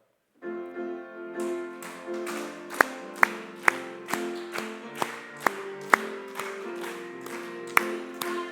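A church congregation claps in a steady, even beat along with a hymn on Pentecost Sunday, sharp claps ringing out over sustained singing and organ-like music that runs through the whole stretch.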